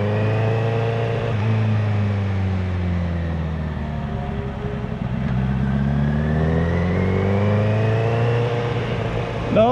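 A Ferrari engine revs up and down in passing traffic in Japan, with loud, rising and falling tones that swell and fade over several seconds.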